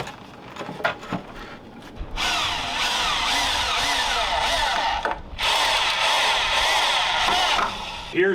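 A power drill drives screws into the wooden frame of a shed, running in two long, loud bursts separated by a short pause, after a few quieter knocks and handling sounds at the start.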